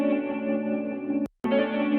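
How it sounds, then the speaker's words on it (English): Clean electric guitar tone with tremolo, chorus, reverb and delay, holding a shimmering sustained chord that drops out briefly and then resumes, close and alone. "With Archetype Tim Henson, some EQ, reverb, delay, chorus, and tremolo."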